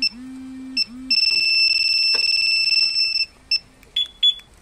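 A Honda Fazzio scooter's anti-theft alarm chirps and then blares a steady, piercing two-tone wail for a couple of seconds, followed by short beeps.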